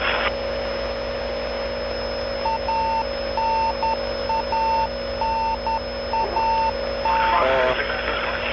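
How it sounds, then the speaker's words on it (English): Radio beacon on a landed Soyuz capsule sends steady short beeps in an even repeating pattern over a constant electrical hum, with faint voice chatter in the background. "That's the familiar radio beacon providing"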